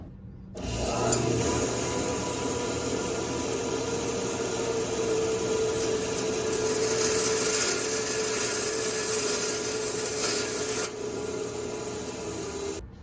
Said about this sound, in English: So we'll head over to the bandsaw and trim that